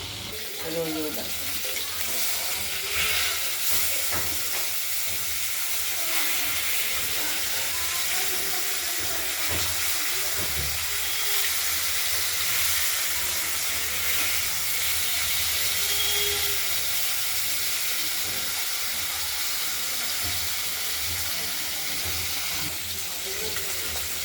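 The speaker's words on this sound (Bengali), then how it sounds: "মাছগুলো ভাজা হোক, দেখতে থাকুন।" Rohu fish pieces fry in a pan with a steady, loud, broadband sizzle and hiss that lasts throughout, with occasional spatter pops and a faint voice now and then.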